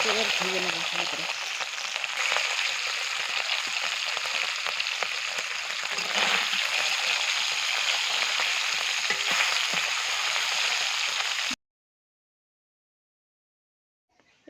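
Salted, turmeric-coated Gule fish sizzle in hot oil in a kadai, a continuous close crackling hiss with light stirring scrapes that cuts off abruptly into near silence.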